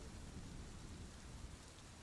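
Heavy rain falls in a dense, steady roar with a deep low rumble underneath, constant from start to finish.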